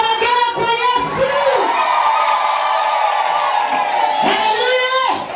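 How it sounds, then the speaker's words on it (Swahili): A high, sustained ululation for Jesus rises from the crowd at a live gospel performance, loud and trilling over cheering and whoops, with a shouting voice alongside. "Vigelegele kwa Yesu"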